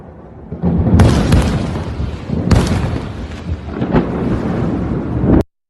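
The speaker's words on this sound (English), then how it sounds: "Those are some big booms." Large explosions from a military strike, a string of loud deep booms with sharp onsets near 1 s and 2.5 s, then rumbling and further blasts that sustain a heavy roar until it cuts off abruptly.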